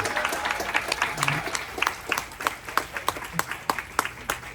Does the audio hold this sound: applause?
yes